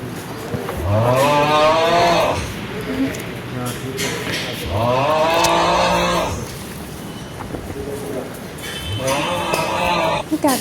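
A cow moos loudly and close by at a Ganpati temple in Sangli, giving three long, drawn-out calls separated by short pauses against a low murmur of background noise.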